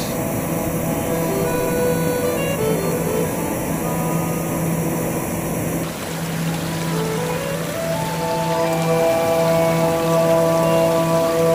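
Vera Falls, a waterfall in Bicol set among mountains, rock walls and thick vegetation, pours with a loud, steady broadband rush like heavy rain, with constant spray hiss throughout and no voices.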